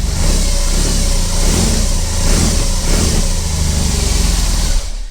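A 2021 BMW R18 cruiser motorcycle engine revs loudly and close, a smooth, steady, car-like drone with rising and falling throttle blips and no talking.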